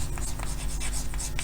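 Pen scratching steadily across paper while a chemistry equation is written out, with quick close strokes in a continuous run and a few short accented flicks.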